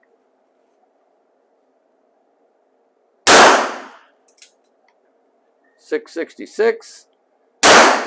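A .32 caliber revolver fires through a chronograph outdoors: two sharp, loud cracks several seconds apart, each with a short ringing tail, and someone speaks briefly between them.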